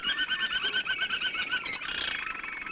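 A pet canary in a shop sings a rapid, bright trilling warble, repeated pulses rolling into a faster buzzing trill, heard close and fairly soft on an old 1930s film recording.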